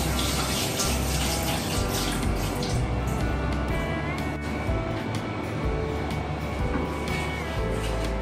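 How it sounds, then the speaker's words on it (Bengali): Cold tap water runs steadily over noodles being rinsed in a kitchen sink, a close, continuous splashing stream with small shifts as the noodles are moved. "রানিং ঠান্ডা ওয়াটারে এরকম নুডলসগুলোকে ধুয়ে নিতে হবে"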